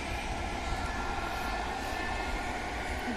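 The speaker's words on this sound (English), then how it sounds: "Another train, it's a suburban train that goes to Liban, possibly." A suburban train passes nearby, a steady broad rumble with rail noise and a faint high whine holding evenly throughout, loud and continuous with no voices.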